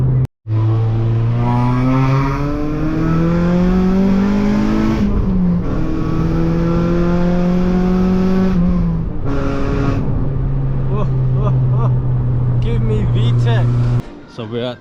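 Honda Civic Type R with a K20 VTEC engine revving hard, loud and near, pitch climbing in long sweeps as the revs rise and drop, with voices shouting over it.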